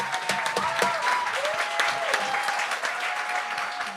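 A Gong Show audience claps steadily, a warm, sustained round of applause from a crowd of moderate size with a few louder claps near the front.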